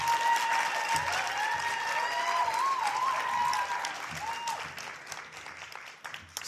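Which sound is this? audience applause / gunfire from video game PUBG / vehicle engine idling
audience applause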